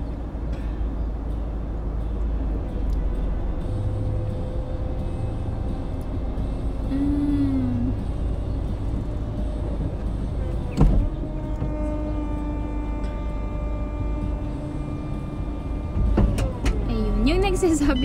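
A Hello Kitty-themed car's roof closes with a steady electric motor whine that rises and falls in pitch, set against constant low background rumble and a few sharp clicks near the end.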